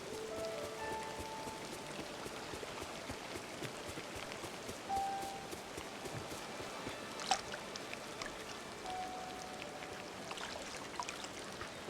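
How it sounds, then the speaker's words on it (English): Steady rain pours down outdoors over a garden, a dense, continuous hiss of drops on surfaces with a few brief tonal sounds layered in, no voices present. "Yeah, it's raining. Nature's watering my garden for me."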